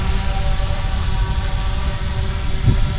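A DJI Phantom quadcopter hovers above a picnic table, its steady whirring rotor drone continuous and fairly loud throughout, with a constant high whine over a rumbling low end and no talk.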